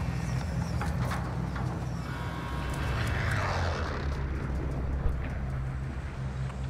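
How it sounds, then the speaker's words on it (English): A helicopter in the Call of Duty video game, a steady mechanical drone with a rising whine in the middle, moderately loud and continuous beneath other game noise. "let's get that helicopter."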